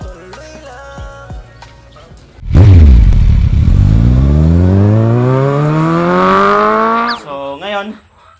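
A motorcycle engine starts up and revs loudly, holding a rising roar for several seconds before cutting off abruptly, with a brief clatter at the end.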